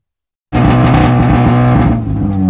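A race car engine on a first training session roars in abruptly and holds a loud, steady, close drone with layered harmonic tones, easing slightly near the end. No voices.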